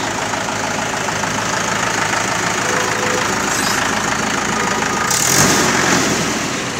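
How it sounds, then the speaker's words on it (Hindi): A Mahindra 575 DI tractor engine runs at a steady idle, a loud, close diesel chugging that holds constant throughout with a brief swell near the end. "बहुत अच्छा ट्रैक्टर है, किसानों की पसंद है।"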